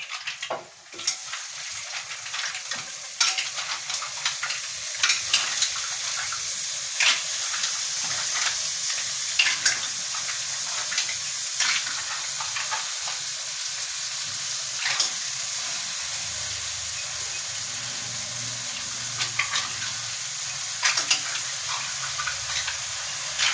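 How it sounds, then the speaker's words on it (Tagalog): Tahong mussels sizzling in a hot pan, a steady loud frying hiss that runs throughout, with scattered crackles and pops close by. "So ilalagay na po natin yung tahong."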